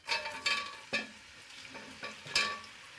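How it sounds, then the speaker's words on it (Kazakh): Meat fries in hot oil in a kazan for plov, a soft crackling sizzle with repeated stirring scrapes and clatters, fairly quiet and close. "Қызып тұрған қазанымызға май құйып, оның үстіне етті саламыз."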